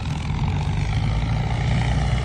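A heavy Ford 7610 tractor engine runs steadily and loudly nearby, a continuous low rumble with a rough droning texture.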